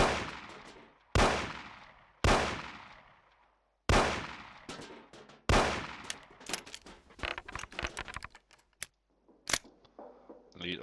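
Repeated gunfire from a handgun in the video game Mafia 1: several loud, sharp single shots spaced about a second apart with ringing decay, followed by a quicker burst of shots mixed with clattering game sounds.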